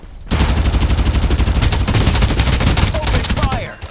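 Rapid automatic gunfire in the battle royale shooter Farlight 84, a loud, close, sustained burst of rattling shots that runs almost the whole time and ends with a few faint chirps.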